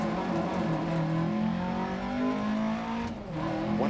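Rally car engine in DiRT Rally 2.0, in a New Zealand championship stage, droning loudly and steadily as it accelerates, its pitch climbing with a brief dip near the end, and no talking.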